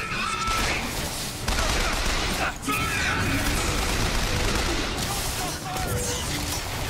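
Gunfire in a Bioshock Infinite firefight: dense, continuous bursts of shots and impacts fill the whole stretch at a loud, steady level, with brief dips and game voices mixed in.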